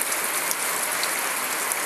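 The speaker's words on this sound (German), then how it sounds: "Es ist nur ganz wenig Regen" Light May rain falls in the Algarve, Portugal, a steady fine hiss with faint scattered drop ticks, fairly quiet and with no one speaking.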